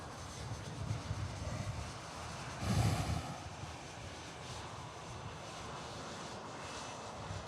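An EasyJet airliner taxiing at Manchester Airport produces a faint, distant engine rumble over steady windy background noise, swelling briefly louder partway through.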